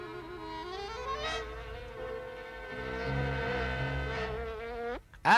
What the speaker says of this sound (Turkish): Defol, defol dedim sana pis sinek.